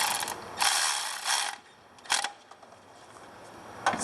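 A 13 mm wrench ratchets an alternator bolt tight on a 1999 GMC Yukon Denali, giving several short bursts of metallic clicking close by, separated by brief pauses, with no talking.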